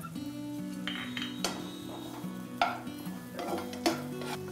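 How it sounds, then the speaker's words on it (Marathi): White onion is stirred in hot oil in a pan, with clinking spoon-on-metal scrapes and a low sizzle, close and moderately loud, no speech. "आता मी कांदा टाकला आहे. फक्त मोकळा करून घेते."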